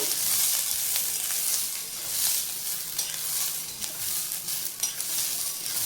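Sweet corn chivda stir-fried in hot oil, a steady close sizzle with scraping stirs throughout, no talking.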